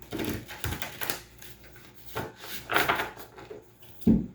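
Tarot cards being shuffled, with soft irregular riffles, taps and rubbing of the deck arriving in separate bursts, fairly close and quiet, with no talk.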